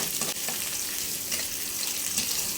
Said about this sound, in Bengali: তেল দিয়ে দিতেছি আমি প্রথমে কিছুটা, অল্প পরিমাণে। পেঁয়াজ আর রসুনগুলো একটু বাজিয়ে নিই আমি এখন।